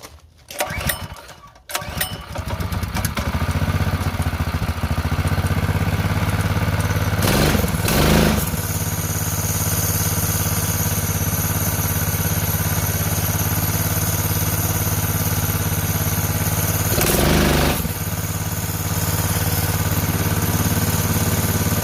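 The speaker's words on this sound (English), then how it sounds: "Well, engine starts." A junker ATV's engine cranks and catches, then settles into a steady rumbling idle, close by and loud, with a couple of brief revs or clunks along the way.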